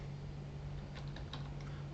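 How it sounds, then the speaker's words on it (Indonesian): Quiet typing on a computer keyboard, a handful of soft scattered key clicks over a low steady electrical hum. "kita akan mengetik yaitu dengan perintah nano"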